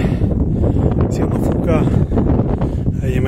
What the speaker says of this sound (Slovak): Silno fúka.